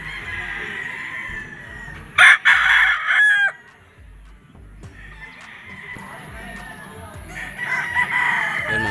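A pure 5K Sweater gamecock crows loudly and close on a game farm, one strong crow near the start and another rising toward the end, with other fowl clucking around it and someone talking.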